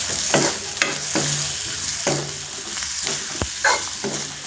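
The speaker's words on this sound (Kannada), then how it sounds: "ಈಗ ನಾವು ಇವೆಲ್ಲವನ್ನು ಸೇರಿಸಿ ಚೆನ್ನಾಗಿ ಫ್ರೈ ಮಾಡೋಣ." Sliced onions with chili powder and turmeric frying in a pan for a raw banana stir-fry, with a steady sizzle and repeated scraping strokes of a spatula stirring the mix, close and moderately loud.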